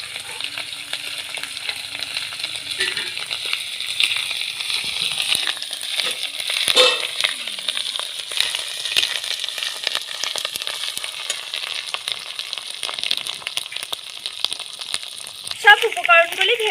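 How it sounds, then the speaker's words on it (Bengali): Garlic and ginger paste frying with other ingredients for ghugni, a steady close sizzle with occasional stirring scrapes throughout, no talking. "এখন সব উপকরণগুলি ভালোভাবে ভেজে নেব।"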